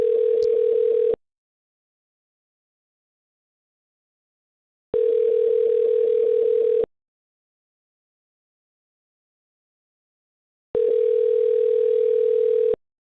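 Telephone ringback tone heard while calling from another phone: three long, loud, buzzing tone bursts about two seconds each, separated by several seconds of silence, evenly repeated.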